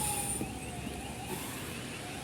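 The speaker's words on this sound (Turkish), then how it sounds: "Yoğun araba var, siren sesleri var ama yol açan kimse yok." Emergency vehicle sirens wail over dense city traffic near Kıbrıs Square in Kahramanmaraş after the earthquakes, a faint, distant, sustained rising tone above a steady traffic rumble.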